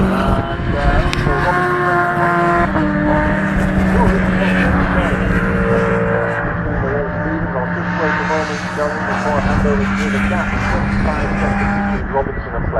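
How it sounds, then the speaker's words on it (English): Two BMW M3 race cars battling in a Eurosaloons race at Cadwell Park, their engines droning loudly and continuously with shifting pitch, under steady commentary from a race announcer. "One heck of a scrap still going on between the two BMW M3s, Dennis Crompton and Gary Whittaker."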